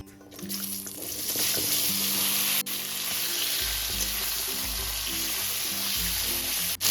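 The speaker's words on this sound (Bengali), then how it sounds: "এবার দিয়ে দেবো কেটে রাখা কুমড়ো এবং আলু" Chopped pumpkin and potato drop into hot oil tempered with dried red chillies, then hiss and sizzle loudly and continuously up close, with occasional stirring and no voices.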